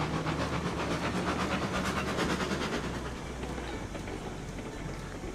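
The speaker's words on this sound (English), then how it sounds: "There's a really weird kind of echoey effect going on with the two identical engines chuffing at the same" Two identical steam locomotives in the Railroads Online game chuff together with a hissing, echoey rhythm, steady and fairly loud with no one talking.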